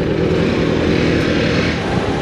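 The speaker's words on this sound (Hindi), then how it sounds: "तो चलो भाई अब भगाएंगे अपनी बाइक को" A steady, loud engine roar from a KTM 390 motorcycle speeding along a highway, a dense, unbroken drone with no breaks for about two seconds.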